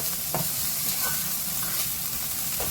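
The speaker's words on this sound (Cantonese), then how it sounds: "再落鮑魚同埋蝦，用鑊鏟將佢兜勻" Abalone and shrimp tossed in a wok with a metal spatula for abalone seafood fried rice, a steady sizzle running throughout with a few brief scraping strokes of the spatula, close and continuous.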